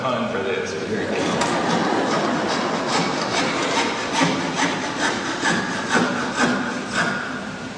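A hand saw cuts through wood on stage at a university graduation ceremony, giving steady, rhythmic rasping strokes that run loud and close for the whole stretch without pause.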